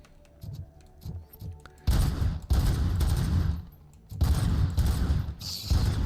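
Gunfire in the video game Robocop: Rogue City, loud bursts of shooting that start after a quieter opening of faint thumps, filling most of the clip with dense, sustained volleys and one short pause.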